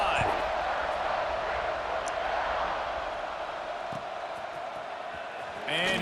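A stadium crowd in an American football video game roars in a steady, dense wash of cheering that holds for several seconds, with brief voices at the start and end.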